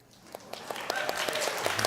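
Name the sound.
audience applause at a summit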